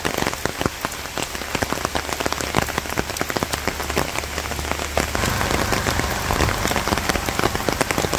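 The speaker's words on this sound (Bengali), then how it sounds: "বৃষ্টির মধ্যে হাঁটতে তো ভালোই লাগে, ভিজে গেলাম এটাই তো খারাপ লাগে" Rain pours steadily on a village path and an umbrella during a walk, a dense, loud, unbroken patter of drops close around the listener.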